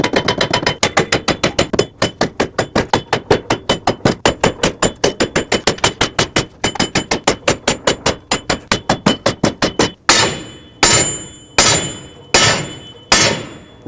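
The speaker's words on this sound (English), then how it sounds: "Now I'm going to use my hammer and hammer the wheel bearing off." Rapid metallic hammer strikes ring out close by in a fast steady rhythm, knocking a front wheel bearing off a 2006-2011 Chevrolet HHR, then slow to a few heavier, spaced blows at the end.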